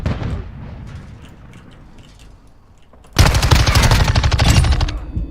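First-person shooter game gunfire: a faint stretch of distant shots, then a sudden loud burst of rapid automatic fire that continues to the end.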